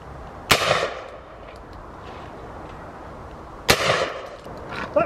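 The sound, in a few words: shotgun firing game and clay cartridges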